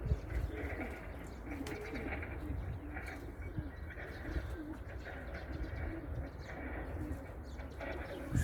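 Pigeons coo softly and repeatedly in low murmuring calls, faint and continuous against a quiet background.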